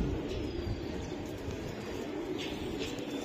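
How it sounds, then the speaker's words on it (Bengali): A pedigreed racing pigeon from a BRPFC club loft coos in low, steady murmurs beneath a constant hum of background noise, close by, with no talking. "খুবই সুন্দর আরেকটা কবুতর"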